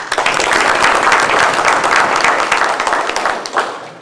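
An audience at a high school Wall of Honor ceremony bursts into sustained, loud applause, many hands clapping densely before gradually tapering off.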